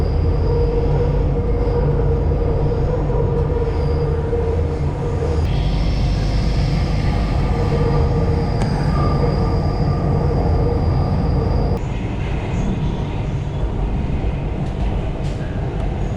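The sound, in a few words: Chennai metro train running onto a bridge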